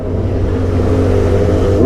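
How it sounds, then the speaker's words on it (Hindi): A BMW S1000RR superbike engine revving loudly and close, a continuous deep growl that holds steady through the short stretch. "ये देखो बस एक ही बंदे का बाइक में भी साउंड है, वो है विशाल"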